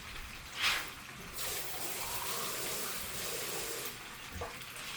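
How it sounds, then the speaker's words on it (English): Water pours steadily into a pan of scalloped potatoes and kielbasa with a soft continuous splashing hiss, after a brief clink at the start. "I'm gonna add 1 can of water to this."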